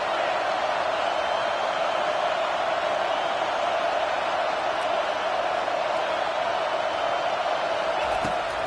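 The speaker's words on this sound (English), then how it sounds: "This crowd bringing the energy and noise early." A continuous roar of a large stadium crowd in the video game Madden 22, dense and steady throughout, like a distant wash of cheering.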